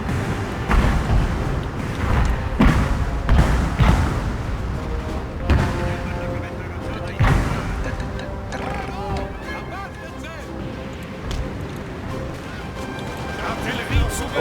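Artillery fire across a Napoleon: Total War battlefield, repeated dull booms and crashes at irregular intervals over a constant battle din, fairly distant and moderately loud.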